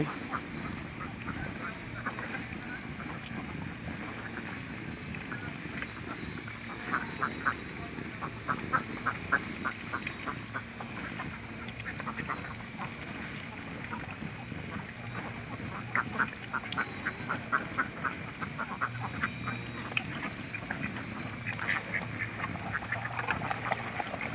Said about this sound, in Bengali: আবার এই হাঁস রেডি করা যে খাবারটা ছিল সেই খাবারটা খাচ্ছে কে